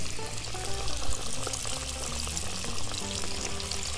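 Catfish pieces frying in hot oil in a pan, a steady close crackle and bubbling sizzle holding at even loudness, with no voices.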